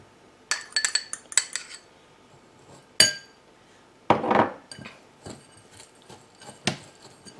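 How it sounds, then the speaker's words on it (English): A spoon works butter, packed brown sugar and pecans together in a bowl, giving irregular clinks and scrapes in short bursts with quiet gaps between them, close by and without talk. "I'm just going to mix it up till the butter is all incorporated with the brown sugar and the pecans"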